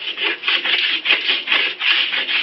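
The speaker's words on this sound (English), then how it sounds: "I'll rub on a nice protective layer." Wax being rubbed by hand onto wood as a protective layer, a loud close rhythmic scrubbing of quick back-and-forth strokes with no voices.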